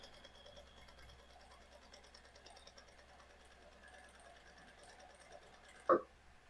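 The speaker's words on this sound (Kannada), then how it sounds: "ಇಲ್ಲಿ ಸ್ವಲ್ಪ ನೀಟಾಗಿ ಬಟ್ಟೆನ ಫ್ಲಾಟ್ ಆಗಿ ಎಳ್ಕೊಂಡು ಸ್ಟಿಚಿಂಗ್ ನ ಮಾಡ್ಕೊಳ್ಳಿ." A sewing machine stitches a blouse lining, the fabric pulled flat as it feeds, giving a faint, steady mechanical whir with a short louder knock near the end.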